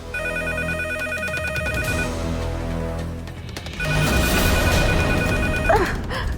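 A landline telephone rings loudly and close by with repeated electronic trills, pauses briefly, then rings again, with a short gasp-like breath near the end.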